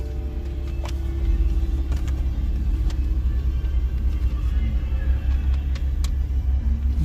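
A small turbocharged drag racing car runs at a small-tire drag race, its engine a steady, loud low rumble with road noise throughout and no talking.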